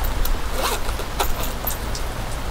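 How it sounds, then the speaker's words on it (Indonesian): A zipper closing the pouch of a Nitecore EMR10 mosquito repeller, a short, close, scratchy zip in a couple of quick pulls, heard alone without talk. "then baru kita zip"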